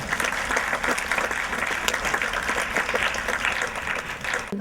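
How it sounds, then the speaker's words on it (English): An audience at a homeopathy gathering claps enthusiastically, a full, sustained burst of many hands applauding close by, loud and unbroken throughout. "Can you give a clap?"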